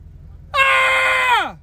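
A man lets out one loud, sustained scream lasting about a second, holding steady before sliding downward in pitch as it cuts off, over a low background hum.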